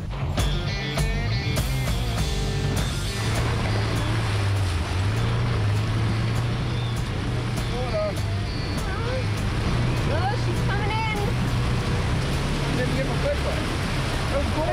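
Patriot Campers X1 off-road camper vehicle driving through water in low range in Mongolia, a steady low engine drone with continuous sloshing and splashing throughout, and people talking over it.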